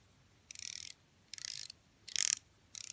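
A Steeldive Puck homage dive watch bezel turned by hand in four short ratcheting bursts, each a fine rapid run of close, crisp clicks over a quiet background.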